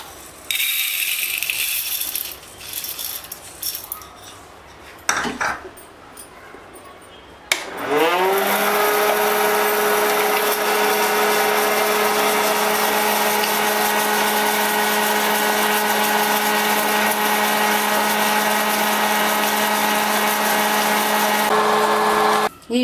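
A snack maker grinds wheat grains with a loud, steady motor whir that starts suddenly and runs continuously for a long stretch, after some earlier handling clatter, with no talk.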